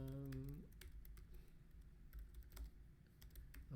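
Fingers tap out a burst of keystrokes on a computer keyboard, quiet and close, with irregular clicks spread across the few seconds after a short voiced sound at the start.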